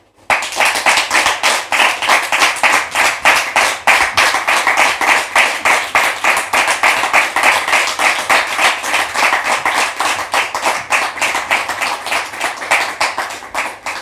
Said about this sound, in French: Public, merci de la recevoir sous vos applaudissements,